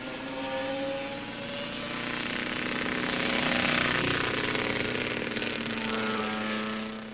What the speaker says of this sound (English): And just listen to this very sick motorcycle.